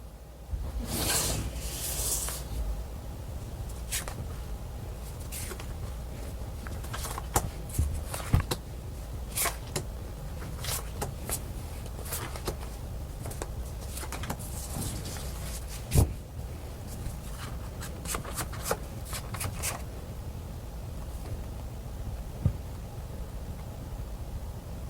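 Tarot cards being drawn and handled: soft papery shuffling and sliding with scattered crisp card snaps and taps. Small handling noises run over a low background hum throughout, with a denser rustle near the start.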